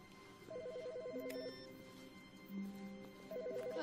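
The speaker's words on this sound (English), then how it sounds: "did you hear a phone ringing?" A warbling electronic telephone ring in The Stanley Parable sounds in two bursts, one early and one near the end, over a low room hum.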